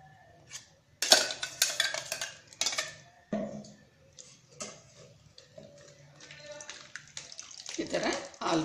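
Ground coconut milk is poured and pressed through a sieve, giving intermittent splashy trickles and soft clinks in short bursts, quiet and close, with a voice talking at times.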